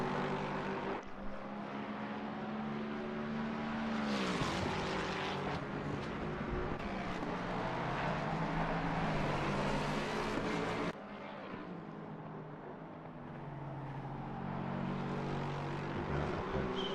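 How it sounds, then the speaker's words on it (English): Lexus race car engine in a sim racing video game, revving and shifting through gears with rising and falling pitch, loud and continuous, with one brief drop as it lifts off before building again. "Beautiful sound that Lexus has to it."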